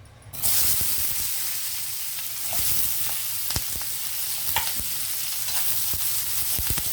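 Capsicum hits hot butter or ghee with chicken for chilli chicken fry, and a loud, close sizzle bursts in after a brief quiet start. It then hisses steadily with scattered stirring clicks, and no one speaks.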